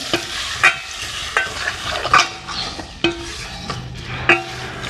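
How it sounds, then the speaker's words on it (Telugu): Tempering spices for cucumber chutney sizzle briskly in hot oil while a utensil clinks and scrapes against the pan in irregular taps. "చూడండి, తాలింపు అయితే చేస్తున్నా"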